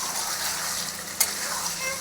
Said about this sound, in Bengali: আমি কিন্তু মাংস কষাটা ঢেকে ঢেকে কষাই, কষানোটা এতে ভালো হয়।